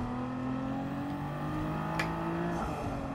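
Race car engine in Gran Turismo 7 holding a steady loud drone with harmonic whine while overtaking another car, a brief rising rev near the end, no voices over it.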